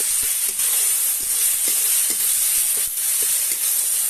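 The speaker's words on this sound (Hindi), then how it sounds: "स्मेल जा पर्यंत या धीरे धीरे कषिया" Spices for chicken biryani fry slowly in a pan, giving a steady close sizzle and hiss broken by a few light stirring scrapes.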